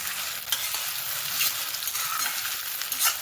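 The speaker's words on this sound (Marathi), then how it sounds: "टोमॅटो थोडा परतून घ्यायचा छान असं. कांदा, टोमॅटोज आणि मिरची अशी चांगली येऊन गेली." Tomatoes, onion and green chili sautéing in a pan for methi bhaji, a close steady sizzle broken by a few scraping stirs of a spoon, no talking.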